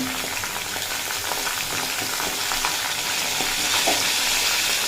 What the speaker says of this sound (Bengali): দিয়ে পর খুব ভালোভাবে ভেজে নেব সাত আট মিনিট মতো নাড়াচাড়া করে